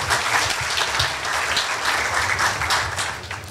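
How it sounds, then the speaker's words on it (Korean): A dense, full round of audience applause fills the hall in thanks after a sand art performance at a forum, steady and loud throughout. "우리 다시 한번 감사의 박수 한번 부탁드리겠습니다."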